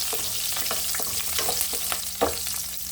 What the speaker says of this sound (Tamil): இப்போ இந்த ஸ்டேஜில் நம்ம கட் பண்ணி வச்சுருக்க 3 பச்சை மிளகா போட்டுக்கலாம்.